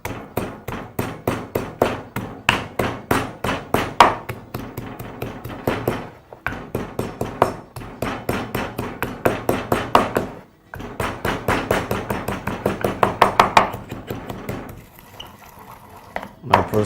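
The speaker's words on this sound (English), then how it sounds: "adding my garlic into my pestle and mortar, and we'll begin to pound that" Garlic pounded in a pestle and mortar, with steady, loud rhythmic thuds and clinks repeating rapidly in bursts, close up and alone, pausing briefly before resuming.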